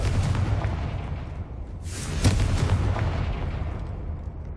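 A Confringo blasting spell erupts in the video game Hogwarts Legacy: a loud, booming explosion bursts out midway over a rumbling, noisy background, then its roar trails off gradually.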